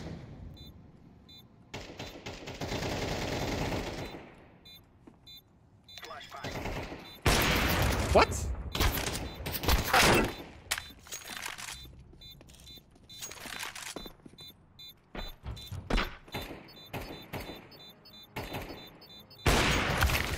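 Counter-Strike 2 gunfire crackles in sharp, loud bursts and rapid volleys, with quieter gaps between exchanges and players talking at times.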